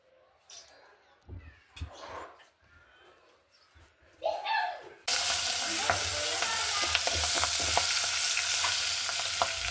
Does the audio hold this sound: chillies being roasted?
yes